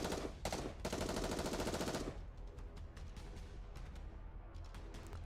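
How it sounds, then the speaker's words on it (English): Rapid automatic gunfire from the game Goddess of Victory: NIKKE, a loud dense burst in the first two seconds, then quieter scattered shots trailing off over a rumbling game background. "Plus fires a gun at the raptors."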